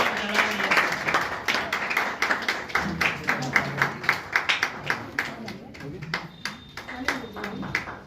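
Audience clapping at a lamp-lighting ceremony, a loose run of hand claps of uneven rhythm, moderately near, with people talking over and between the claps.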